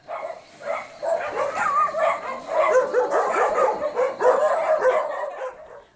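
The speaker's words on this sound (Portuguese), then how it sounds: "Basta abrir a porta de casa para que os cães comecem a latir." Several hungry, neglected dogs at a run-down house bark and yelp continuously, loud and close, with overlapping yips and whimpers throughout.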